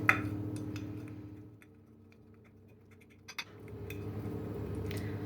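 Avocado mashed with a fork in a bowl, producing soft irregular scraping and tapping of metal tines against the dish, close and fairly quiet, with a brief louder clink partway through.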